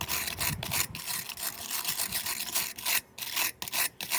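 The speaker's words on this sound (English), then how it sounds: "If this is moss, like I think it is, I should be able to scrape it off with my wire brush." A wire brush scraping moss off a mossy rock: loud, close, rough rasping strokes in a rhythmic back-and-forth, with a few short pauses near the end.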